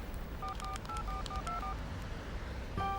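A telephone number is keyed in, around ten quick DTMF tones in an irregular sequence over a low background hum, followed by a longer tone at the end.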